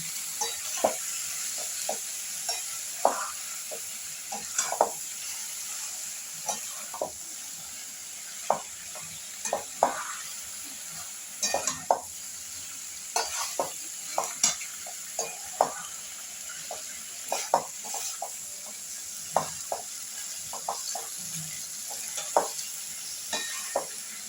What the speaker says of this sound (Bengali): মাছ এবার একটু মশলার সাথে সবজিটার সাথে একটুখানি নেড়ে ছেড়ে দিই হালকা।